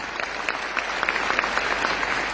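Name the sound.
audience applause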